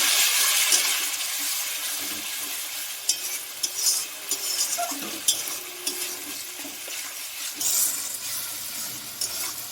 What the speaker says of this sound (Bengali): এবার মশলাটা কষিয়ে নেবো।